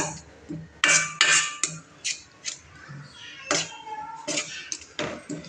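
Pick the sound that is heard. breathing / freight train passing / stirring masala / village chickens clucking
stirring masala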